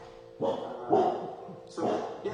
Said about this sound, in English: here's a neighbor, and that's a dog